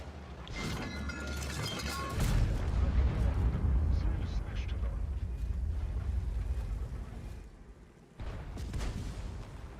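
Heavy artillery fire and mechanical clatter in the tank game World of Tanks, with loud booming bursts and rumbling battle noise running throughout, dipping briefly near the end.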